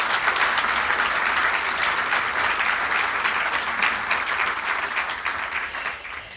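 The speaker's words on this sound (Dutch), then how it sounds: "En ik denk dat een applaus voor de heer Koenen ook wel op zijn plaats is." Audience applause for a royal honour recipient at a ceremony, a dense, steady wash of clapping from a full room that carries on throughout and fades slightly at the end.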